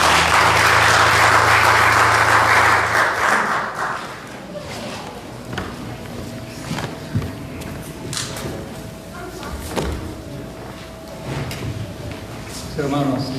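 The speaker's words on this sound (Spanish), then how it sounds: "Denle ese aplauso fuerte a Dios por los papás." A church congregation gives loud applause that fills the first few seconds, then fades into quieter room noise with scattered voices and shuffling.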